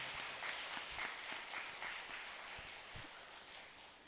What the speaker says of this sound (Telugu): గట్టిగా చప్పట్లు కొడదాం ఆయనకి